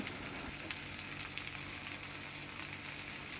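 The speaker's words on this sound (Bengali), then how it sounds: "এখন ঢেঁড়সগুলো পেঁয়াজের সাথে একটু মিশিয়ে নিচ্ছি" Okra sizzles as it fries with onions in a pan. The dense, even crackle runs continuously at moderate level with no talking, and faint scraping suggests stirring.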